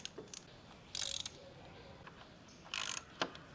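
A hand ratchet clicks in a few short, crisp bursts while bolts are removed on a BMW S1000RR motorcycle, quiet and close, separated by pauses with no talk.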